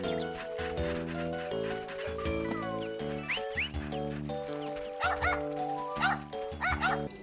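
Dogs bark and yip in the Nintendo DS game Nintendogs, with repeated short barks over bright, steady game music.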